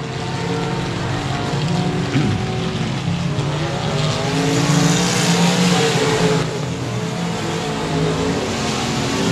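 Race cars roar around the oval at 67 Speedway of Texarkana, engines droning loud and near with a rising and falling pass as the field laps, a dense continuous rumble with no talk.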